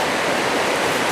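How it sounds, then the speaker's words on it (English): Jacks River rushes through mountain wilderness, a loud, dense and unbroken roar of flowing water close by, with no voices. "We still have to cross the Jacks River one more time."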